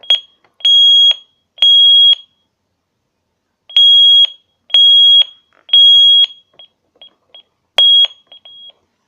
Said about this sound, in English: So I just canceled my alarm so the alarm didn't send.